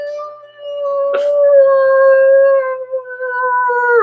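Human voices imitate a wolf's howl, one long, loud, sustained wavering note that slides slowly in pitch, held close for several seconds with a brief dip near the end.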